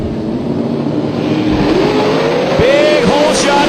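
A nitrous-powered 1957 Chevrolet Bel Air with a 738 cubic inch big mountain motor launches off the line against a rival drag car at Atlanta Dragway, a loud continuous engine roar with rising revs, and a commentator's voice runs beneath.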